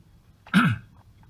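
One short, sharp cough, close and loud, in an otherwise quiet room.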